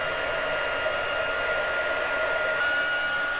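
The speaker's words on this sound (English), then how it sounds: "you just keep moving your heat gun around" A heat gun blows steadily on white embossing powder, its constant whirring hiss holding an even level with faint tonal hums throughout and no pauses.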